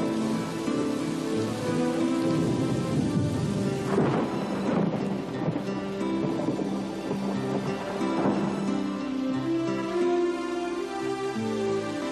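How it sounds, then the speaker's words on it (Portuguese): A heavy thunderstorm with steady rain drumming on surfaces, punctuated by rolling thunder peaks around the middle of the stretch; the downpour is continuous and fairly loud throughout, with no voices. "Está parecendo um bom lugar para esperar a tempestade."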